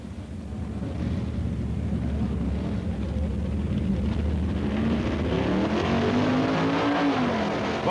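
Super Stock drag racing car making a run at the 1965 AHRA Winternationals on Arizona asphalt, an engine roaring steadily and rising in pitch toward the end, loud and continuous with no talk.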